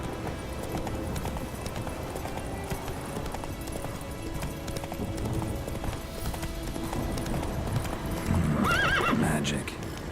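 A horse gallops in a video game, its hooves pounding in a fast, continuous clip-clop over busy game ambience, with a loud whinny rising near the end.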